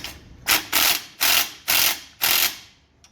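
A ratchet wrench tightens a 1/2-inch head bolt on the starter of a John Deere riding mower with a Briggs & Stratton engine, giving five close, loud bursts of clicking separated by short pauses.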